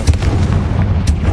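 Confringo blast spell going off in Hogwarts Legacy, a loud, dense booming burst with a sharp crack near the start and another flare toward the end, sustained rumble throughout with no talking.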